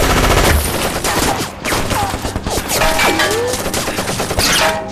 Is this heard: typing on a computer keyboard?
no